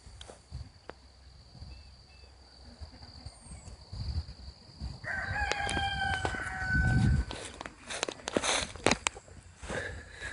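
Chickens cluck and a rooster crows on a homestead near the pig pens, the crowing clear but set back amid a steady outdoor din of scattered bird calls and rustling, with no one talking.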